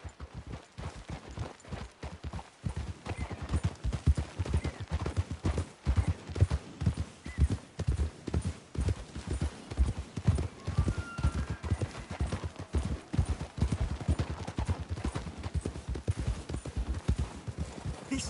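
Horses' hooves clip-clop in a steady, uneven rhythm in a video game, several animals walking together at moderate distance with no voices.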